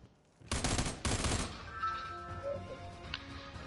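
Two loud, close bursts of rapid gunfire ring out in a military video game, each about half a second long, followed by fading ringing tones and a faint later shot.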